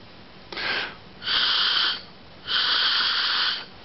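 Someone blows through the fuel petcock of a Harley Evolution Sportster set to reserve: three hissing, airy blows, each about half a second to a second long, close and fairly loud with pauses between.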